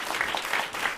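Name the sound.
audience applause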